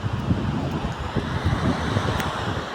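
Wind and surf on the Omani coast at Al Khaburah, a steady broadband rush with low rumbling gusts buffeting the microphone, continuous and fairly loud with no clear individual wave breaks.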